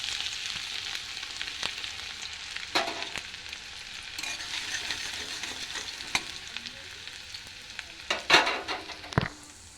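Chopped garlic sizzling in hot oil, a steady frying hiss close by, broken by stirring scrapes and louder crackling bursts near the end.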